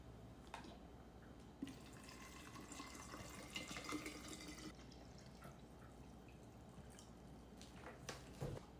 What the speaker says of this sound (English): And we are going to fill it with the distilled water